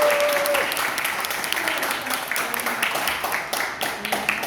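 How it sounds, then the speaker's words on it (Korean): Audience applause at a Korean political party lecture, a loud, dense round of clapping from a crowd lasting over four seconds, steady and close, with faint voices beneath. "큰 박수 한번 더 해주세요."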